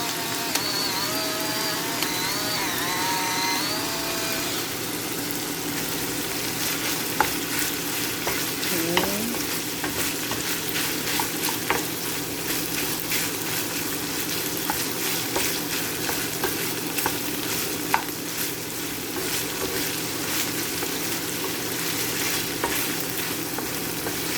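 Pork sizzles steadily in a hot pan while a utensil stirs and scrapes through it, producing a constant frying hiss dotted with soft clicks and scrapes.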